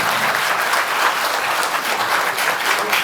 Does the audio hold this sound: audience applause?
yes